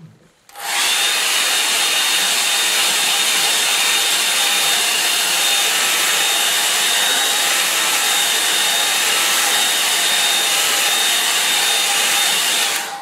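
Hair dryer blowing on a watercolour painting, switching on abruptly and then roaring loud and steady with a constant whine, close to the microphone for the whole stretch.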